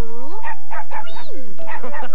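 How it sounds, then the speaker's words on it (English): A puppy, one of three dogs with a mother dog, gives a series of high whimpering yips and short barks, close and clear, while a person talks over parts of it. "It's a puppy."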